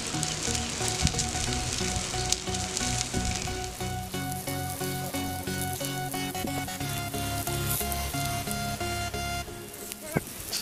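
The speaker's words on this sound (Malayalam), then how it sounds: "അപ്പോൾ നമ്മുടെ മീൻ ഇതേപോലെ ദോശക്കല്ലിലോട്ട് വെച്ച് കൊടുത്തിട്ട് നമുക്കൊന്ന് ഗ്രില്ല്" Katla fish grills on a hot dosa griddle, giving a steady, continuous loud sizzle and crackle of frying that runs unbroken throughout.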